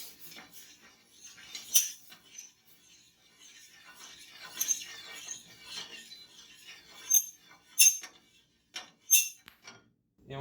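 Sugar and vinegar being mixed with a metal utensil in a bowl, giving irregular scraping and sharp clinks that rise into several louder taps, close and without talk.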